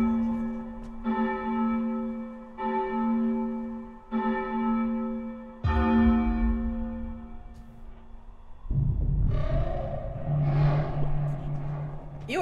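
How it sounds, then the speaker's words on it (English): A bell rung by a spell in Ikenfell, four or five evenly spaced resonant strikes with long ringing tails, the last louder, followed by a swelling rushing magical swoosh, loud and close. "I know the spell to ring the bell"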